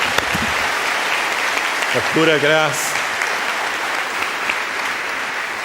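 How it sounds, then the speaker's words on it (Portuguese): A church congregation applauds in a steady, dense burst of clapping that fills the whole stretch, with a voice speaking briefly over it near the middle. "Vamos aplaudir ao Senhor por essa história."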